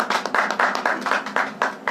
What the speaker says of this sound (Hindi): एक बार एहसन भाई के लिए तालियां तो हो जाएं।